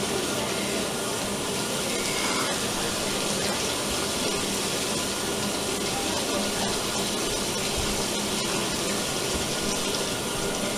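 A 2004 Kenmore 80 Series washer, built by Whirlpool, fills with warm water in a steady, loud, unbroken rush of water that holds level from start to finish with no voices.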